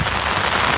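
Heavy rain pours down during a major storm in Cologne, a dense, steady hiss of drops hammering surfaces that holds at constant loudness throughout, with no voices.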